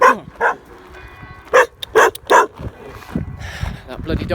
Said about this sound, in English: That bloody dog. I've been living on here for 4 months. It still barks at me.